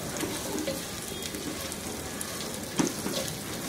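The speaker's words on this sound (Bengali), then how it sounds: "আমি চুলার জালটা হাইয়ে রেখে ভাজতেছি" Whole cinnamon and cardamom frying in oil over high heat, a constant close sizzle with faint crackles and one brief louder clink near the end, no voices.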